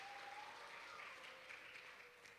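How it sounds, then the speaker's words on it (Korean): Faint, steady applause from a congregation during a Christmas church service, distant, lasting a couple of seconds with a soft tone lingering underneath. "박수."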